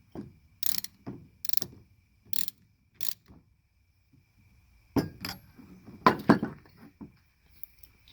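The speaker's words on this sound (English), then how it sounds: "first we got to put these Npt fittings in" NPT fittings are threaded by hand into an Air Dog 4G 165 lift pump, giving several short metallic clicks and ratcheting scrapes in bursts, close by, separated by quiet gaps.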